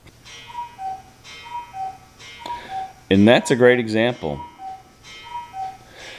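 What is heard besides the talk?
cuckoo clock ticking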